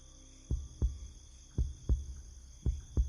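A heartbeat sound effect in a horror story thuds in slow, paired double beats, low and deep over a faint steady hum, no talk.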